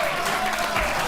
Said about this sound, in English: I love that the audience clapped at that.